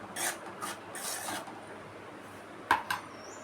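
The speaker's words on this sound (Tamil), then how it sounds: "அதனால் நான் இதை கொஞ்சம் வறுத்துக்கிறேன்" Raw rice flour for milk puttu being stirred in a hot pan, a few soft scraping rasps near the start, then a pause, then two sharper clinks or scrapes of a utensil against the pan, quiet and close.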